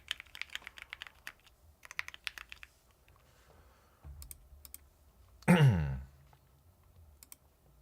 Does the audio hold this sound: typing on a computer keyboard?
yes